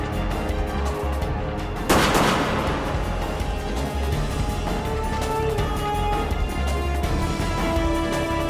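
A single loud gunshot cracks out in a tense police confrontation in a Hong Kong TVB crime drama, standing out sharply against a steady dramatic background score.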